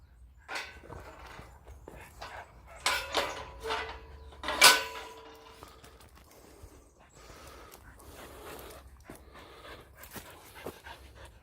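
Dogs on leads pant, snuffle and tread through woodland on a walk, a quiet, irregular mix of breathing, footsteps and brief rustles, with a few louder bursts midway.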